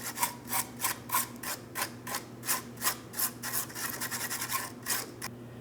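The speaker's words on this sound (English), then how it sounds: "I'm using a wire brush." Wire brush scrubbing rusty car body metal where a rear trailing arm bracket mounts on a 2004-2008 Pontiac Grand Prix: steady rhythmic back-and-forth rasping strokes, about two per second, close up, with no talk.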